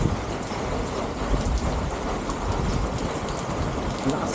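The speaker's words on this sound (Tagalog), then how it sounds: "Lakas ng ulan dito." Heavy rain pours steadily at a campsite in Tanay, a dense, constant hiss of drops drumming on surfaces, loud and unbroken with no voices.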